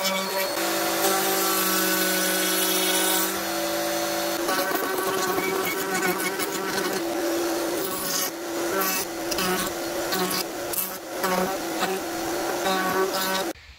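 A loud, close power tool buzzes steadily as it smooths an edge, its whining hum shifting in pitch as it bears down on the material.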